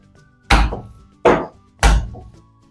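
A Turkish köfte meatball mixture with salt, black pepper, cumin and red pepper is slapped down by hand three times, sharp close thuds spaced under a second apart with quiet between.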